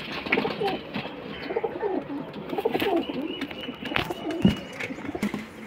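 Pakistani pigeons coo repeatedly at close range in a mixed flock, layered calls overlapping in a steady throaty rhythm, with faint scattered human voices in the background.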